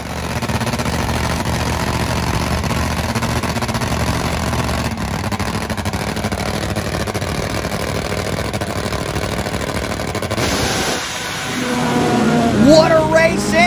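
Drag racing engines roar steadily, a Harley motorcycle against a four-cylinder bike, a loud continuous drone from a distance with a shift in tone near the end.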